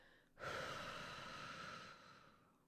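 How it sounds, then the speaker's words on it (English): A single long, steady exhale during a breathing-and-bracing demonstration, a close, airy rush that starts abruptly, holds for about a second and a half, then tapers off quietly, with no talking over it. "Then I'll breathe out."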